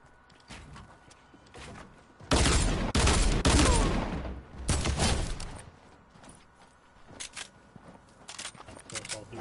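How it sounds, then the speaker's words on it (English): Fortnite video game gunfire comes in bursts of rapid shots, with two loud sustained volleys and scattered sharper single shots between them, while players talk over the action. "You guys shooting from down here."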